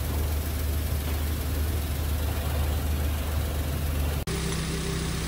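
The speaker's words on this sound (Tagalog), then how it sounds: "Yan, sobrang tahimik na nung andar." A Toyota Wigo car engine runs quietly after a repair, a smooth, even idle hum that holds steady and close, broken by a brief dropout near the end.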